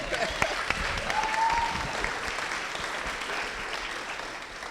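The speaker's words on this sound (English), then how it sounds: "I need a round of applause for him." Wedding guests applauding during a speech for the groom, a steady crowd of clapping with a whoop or two, fairly even throughout and slowly easing off.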